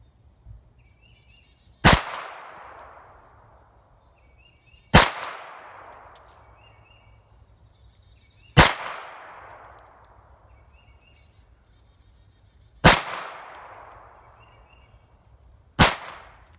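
Five sharp gunshots fired at a target 50 yards away, spaced evenly about three seconds apart, each a loud crack with a short echoing tail across open ground.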